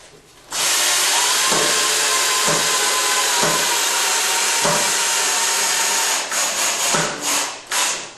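Power drill driving 2.5-inch exterior screws into the wooden legs of a garage workbench, a loud continuous whir with brief dips and bursts near the end, close up with no talking.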